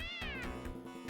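A cartoonish cat meows in a video game, a bright falling meow over busy, rhythmic game music, close and fairly loud, with no talk.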